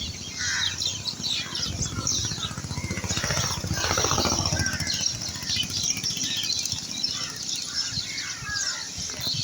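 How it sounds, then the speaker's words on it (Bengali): A large flock of birds, including crows, chirps and calls continuously at a morning feeding, with bursts of flapping wings, a busy dense chorus close by. "পাখিদের মেলা বসে এখানে।"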